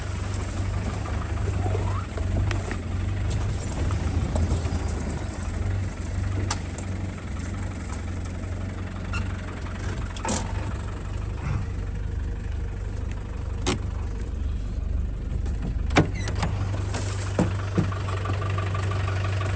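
Land Rover Discovery engine labouring steadily up a steep off-road track, a low continuous rumble close by, with occasional knocks and clunks from the vehicle over rough ground.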